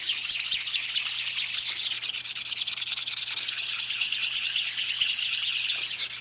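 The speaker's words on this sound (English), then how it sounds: "Which for this little honing stone will take a while because it's a very fine grit." A fine-grit honing stone is rubbed back and forth across a part from a 1946 84ci stroker Harley knucklehead motor, making a continuous close, bright, gritty scraping with a faint steady hum beneath it.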